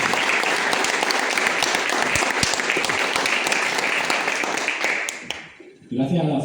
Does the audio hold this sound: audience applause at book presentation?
yes